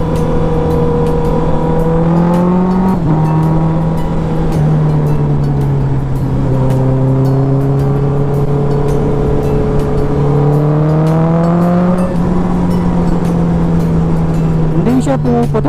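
Tuned motorcycle with an Akrapovic muffler, ECU tuning and velocity stack, a loud engine drone rising and falling through revs with sharp popping at the end, heard under ongoing talk.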